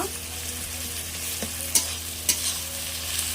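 Onion, garlic and ginger paste fries in hot oil as a spoon stirs it, a steady close sizzle broken by two sharp scrapes of the spoon against the pan.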